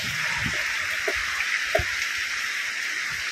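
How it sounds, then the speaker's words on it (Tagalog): Light rain falling during a typhoon morning, a soft steady hiss of drops throughout with a few faint low thumps and knocks in the background. "Naulan pa siya pero hindi na ganun kalakas."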